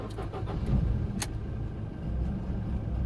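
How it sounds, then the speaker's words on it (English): A 2003 Ford Fiesta with a flashing immobiliser light cranks with a brief rhythmic churn, then catches into a steady low engine idle, close and fairly loud. "We have cranking and we have the engine running."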